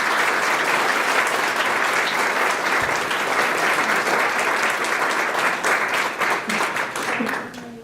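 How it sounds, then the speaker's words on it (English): Sustained, dense applause from a large audience at a graduation celebration, loud and steady throughout before tapering off near the end. "Give them another round of applause."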